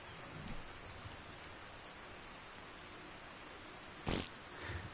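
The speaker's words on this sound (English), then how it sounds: "Well, it's raining, which is fine" Steady rain in the video game ARK: Survival Ascended hisses continuously, broken by a brief sharp crackle of a heavier burst near the end.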